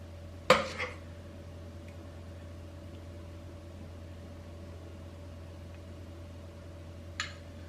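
Spoonfuls of creme catalana dropped into a bowl in a home kitchen: two soft clinks, one near the start and one near the end, with a low, steady hum between them.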